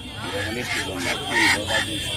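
Several desi chickens cluck and call in short bursts nearby at a village market, over a low murmur of background noise.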